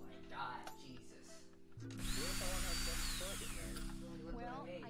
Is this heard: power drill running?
yes